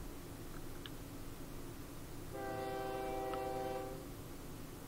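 A train rolls along with a steady rumble in the OpenTTD railway simulation game, then a loud multi-tone train horn sounds for about a second and a half before fading back into the track noise.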